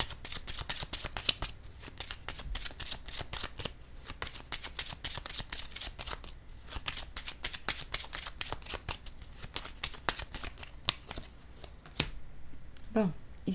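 Tarot cards being shuffled and handled close by: a rapid series of crisp, papery flicks and snaps recurring throughout, fairly quiet, with someone speaking softly at times.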